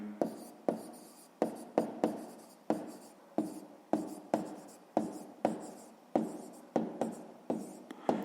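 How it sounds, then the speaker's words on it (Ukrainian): A pen writes out a sixth-grade maths answer on paper, giving a steady run of short, crisp scratching strokes close up and fairly quiet, with no talking. "записуємо відповідь"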